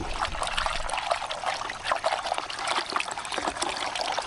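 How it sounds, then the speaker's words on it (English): A Katadyn BeFree water filter is shaken while held underwater, giving a continuous close sloshing and trickling of water that churns steadily throughout. "You take this, you submerge it in water up to here, and you shake it."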